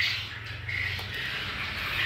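Caged adult quail call at a farm, giving short, sharp squawks and chirps at close range over a low background hum, repeating irregularly.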